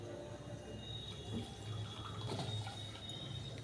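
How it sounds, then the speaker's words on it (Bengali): Milk pours into a cup of coffee with a steady, close liquid trickle lasting a few seconds, alone without talk. "এই যে দুধ ঢেলে নিলাম।"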